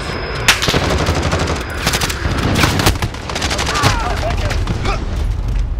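Rapid bursts of automatic gunfire crackle loudly and almost continuously in an online shooter match, dense volleys layered with scattered single shots and booms.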